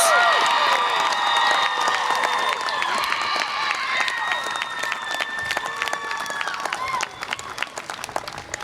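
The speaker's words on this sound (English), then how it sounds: "Can you please join me in giving our graduates another round of applause?" Sustained applause and cheering from a large audience for graduates at a university commencement, with voices and whistles rising over the clapping before it gradually thins out.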